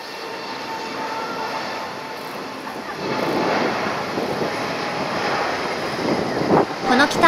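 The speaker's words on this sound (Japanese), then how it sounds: "続いて、ドイツ政府専用機 A350-900 も離陸です。" German government Airbus A350-900 taking off from Haneda Airport: a broad, distant jet roar mixed with wind buffeting the microphone, swelling louder about halfway through and holding steady to the end.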